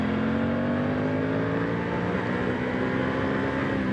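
A 2025-2026 Aprilia Tuono 660 Factory motorcycle being ridden, a steady loud engine drone with a constant pitch and wind rush throughout, no speech.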